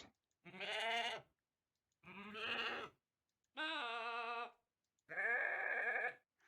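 A Minecraft goat, Bedrock Edition, gives four drawn-out bleats in turn as it readies a ram attack, each call a second or less and set apart by short silences, clear and close with no talking.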